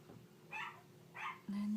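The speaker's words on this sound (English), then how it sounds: "And there goes my dogs again." Two short, faint dog barks sound at a distance, followed by a brief steady tone.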